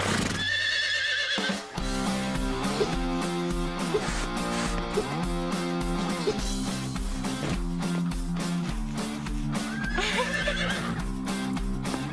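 A cartoon horse whinnies loudly near the start, then steady rhythmic music plays, with another whinny-like cry rising over it later.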